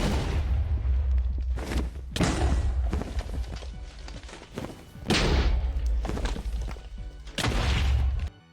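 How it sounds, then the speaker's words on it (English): Bed explosions in the Minecraft video game, a series of loud, heavy booming blasts, about four of them spaced a couple of seconds apart, each with a rumbling low tail. "We can do another mid-bed explosion here."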